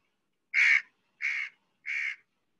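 Three loud, harsh crow caws in steady succession, each about a third of a second long, evenly spaced with clean silence between them, recorded up close with no voices.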